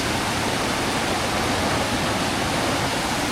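Creek water rushing in the rainy mountains, a loud, steady broadband roar of flowing water with no pauses or voices.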